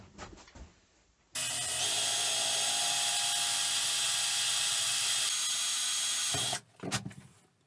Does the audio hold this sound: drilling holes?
yes